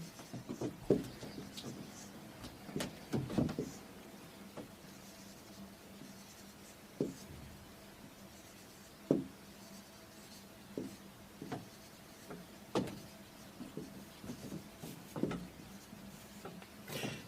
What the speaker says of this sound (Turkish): Şimdi ben bu notaların isimlerini altlarına yazacağım.